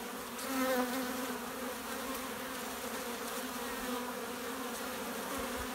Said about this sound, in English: I've either got some big fat drones in there